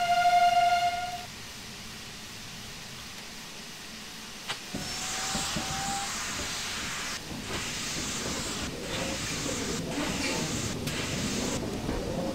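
A steam locomotive on a heritage railway sounds a short whistle blast, then chuffs and hisses with open cylinder cocks while the train gets moving, with steady mechanical running noise and a few sharp clanks.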